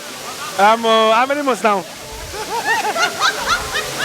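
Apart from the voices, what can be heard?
Ezimo Waterfall rushing water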